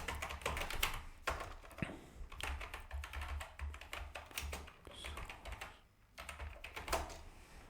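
Quiet, close clicking of a computer keyboard, a run of irregular keystrokes with brief pauses and a key press for enter, with no talking.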